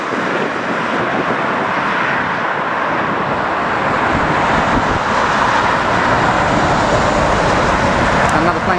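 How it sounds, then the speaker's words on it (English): An airliner taking off steeply at Heathrow airport in strong wind, a loud, sustained roar of jet engines that rises slightly toward the end, mixed with wind and road traffic noise. "Another plane's just taken off quite steep."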